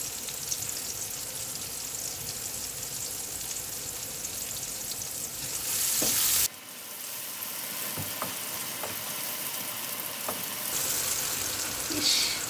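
Whole spices, among them black and green cardamom, cumin, cloves, bay leaf and cinnamon, sizzle steadily in hot oil for a duck curry in coconut milk, with a few stirring clinks and a brief drop in the background hiss midway.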